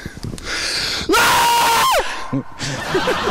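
A man lets out one very loud, sustained shout lasting nearly a second, sharply louder than the quieter voices and background noise before and after it.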